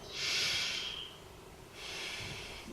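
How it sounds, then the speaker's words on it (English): Two slow, deep breaths during a yoga pose, each a soft airy hiss lasting about a second, close and quiet with a short pause between, no talk. "And let's take 3 breaths here"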